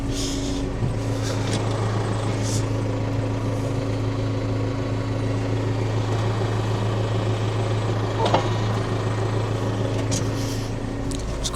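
A farm tractor's engine runs steadily at close range while it is being hitched, a constant low rumbling drone with a brief knock partway through, continuing unbroken for the whole stretch.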